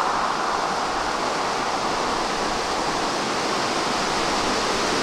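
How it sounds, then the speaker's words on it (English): Brador Falls, a waterfall on the Brador River on Labrador's east coast, gives a steady, dense rushing roar, loud and unbroken throughout, with no voices. "right there is a really nice looking waterfall"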